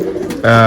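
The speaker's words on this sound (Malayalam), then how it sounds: "ഇതാട്ടെ നമ്മൾ പ്രാവ് ഇറങ്ങാൻ നോക്കുന്നത്" Pigeons at a loft trying to land, a short close coo that swells into a sustained tonal call, loud and alone.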